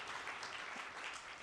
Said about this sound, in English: Let's give one more round of applause for Congressman Lynch